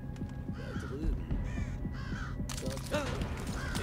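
A crow caws repeatedly in the Thief video game, harsh calls coming in quick bursts over a busy, noisy game background.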